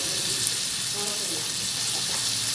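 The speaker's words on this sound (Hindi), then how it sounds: "जस्ट 2 टेबलस्पून ऑलिव ऑयल डालें। जैसे ही ये थोड़ा सा गर्म हो जाए तो इस पर स्टेक रख दें।" Beef steak fries in two tablespoons of olive oil over a low flame, a continuous close sizzle with a few soft clinks and light crackles over it, and no speech.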